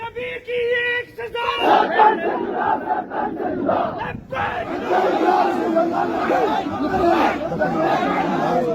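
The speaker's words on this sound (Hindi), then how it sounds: "ठीक आप मेरे पीछे इस वक्त जो है वो एक भीड़ उमड़ी हुई देख सकते हैं।" A large crowd gathered at a mosque in Bathindi, Jammu, shouting and chanting together loudly and continuously, with someone speaking close by at the start.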